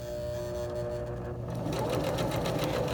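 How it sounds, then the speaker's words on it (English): Sewing machine running steadily, stitching a tote bag casing along the inside presser foot, with a close, continuous rapid mechanical whir and hum for the whole stretch and no speech. "we're just going to start sewing"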